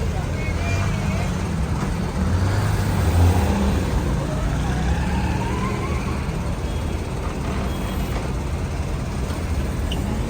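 Jammed road traffic on Shorkot Road with cars and trucks gives a continuous low rumble of idling and creeping engines. A nearby voice talks over the vehicles throughout.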